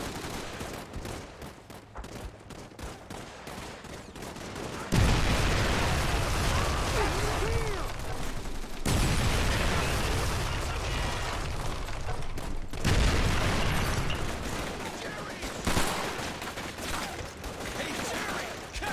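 Heavy gunfire in Call of Duty 3 World War II combat, rapid volleys and bursts with booming blasts crowding the whole stretch, loud and dense, with shouted voices mixed in at times.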